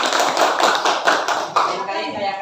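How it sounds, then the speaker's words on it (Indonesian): A classroom of students applauds a classmate, a dense burst of hand claps at close range that holds steady for about two seconds before thinning into a fading rustle. "tepuk tangan untuk Widya."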